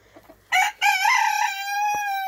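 A chicken, likely a white laying hen, gives a loud, close call in two bursts, a short squawk followed by a longer drawn-out crow-like note that tapers off, with no talking.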